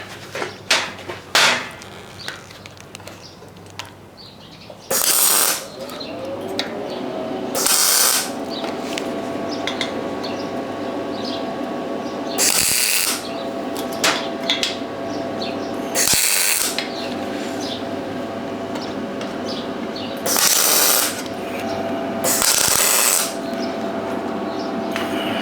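Tack welding on a metal utility trailer ramp frame with expanded metal, heard as several short, loud, crackling bursts spaced apart. Clanking metal and tool handling fill the gaps between them.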